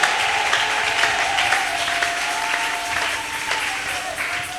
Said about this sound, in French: Si tu es content, acclame-le.